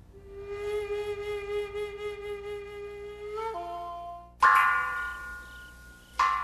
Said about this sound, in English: A clear ringing sound echoes from somewhere beneath a tranquil Japanese garden.